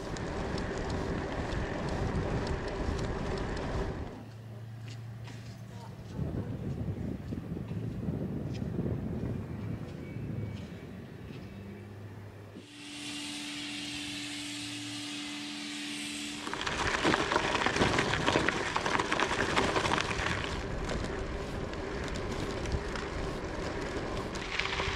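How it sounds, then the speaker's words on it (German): Light wind buffets the microphone while cycling outdoors in Denmark, a steady rushing roar that drops away for stretches and returns, with no voices. "Eigentlich ist nur ein leichter Wind"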